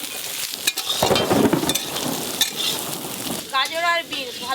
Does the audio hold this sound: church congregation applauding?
no